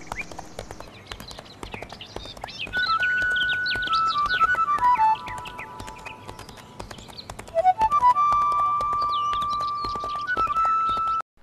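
A horse's hooves clip-clop at a steady walking pace close by, with an occasional neigh and bright birdsong whistling over them in a forest setting.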